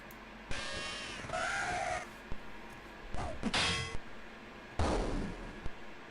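Crow-like cawing birds in the Wizardry VII: Crusaders of the Dark Savant computer game, several harsh bursts near a boat, loud and close with gaps between calls.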